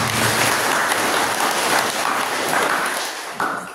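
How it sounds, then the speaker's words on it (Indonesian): Church congregation applauding first communicants at a First Holy Communion Mass in Lembata, lively group clapping that holds steady and tapers off, with a brief bump near the end. "Mari kita mengiringi mereka dengan doa dengan tepukan tangan yang meriah bersama"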